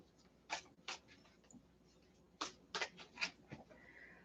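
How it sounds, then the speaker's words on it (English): A deck of playing cards being shuffled, heard as a few quick, crisp riffling bursts spaced apart, close and fairly quiet, with no talking. "one more shuffle and I think we're good"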